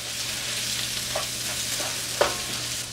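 Tomato frying in a pan for a Kerala-style chicken roast, a steady loud sizzle with a low hum beneath and a couple of brief stirring scrapes.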